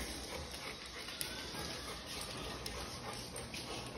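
A pet dog growls and whimpers indoors, faint and brief, against a low background hiss.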